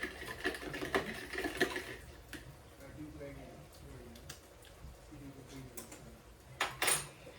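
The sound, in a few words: whisking a sauce with brown sugar and mirin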